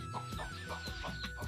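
Chickens clucking close by on a rural homestead after being let out in cold weather, a rapid run of short repeated clucks and calls filling the short stretch.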